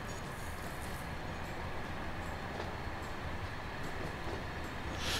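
A train departing in the Transport Fever game rolls on with a steady, dense rumble and rattling wheels throughout, with a faint hiss toward the end and no talking.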